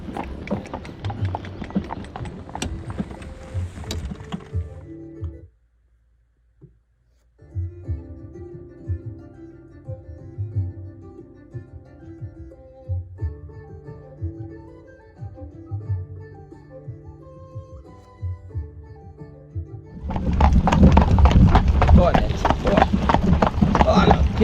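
Pony hooves clip-clop on a road through the Gap of Dunloe, Ireland, during a pony ride: a dense run of hoofbeats at the start and a louder stretch at the end, with music filling the middle.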